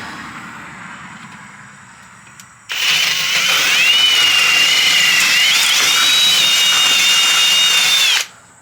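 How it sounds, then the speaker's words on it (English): A power drill boring out a pinion starts abruptly and runs at a loud steady whine for about five seconds, its pitch rising slightly under load, then stops, with quiet workshop background before and after. "We've made some progress today getting this pinion drilled out."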